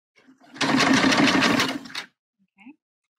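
A sewing machine topstitches a channel on a bra being sewn, in one loud, close, steady run lasting about a second and a half, followed by a faint click.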